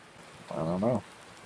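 Rain falls in the Farming Simulator 19 video game as a steady soft hiss, with a voice briefly heard over it midway.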